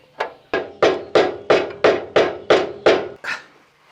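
Nine sharp, evenly spaced hammer blows ring out up close as a steering lower arm is driven into place on a Series 1 Land Rover under restoration, each strike loud and quickly decaying.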